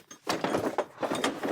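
A door is pushed shut from outside and locked in a Hindi TV comedy scene, giving a few close wooden thuds and latch clicks in quick succession over a busy mix of room noise.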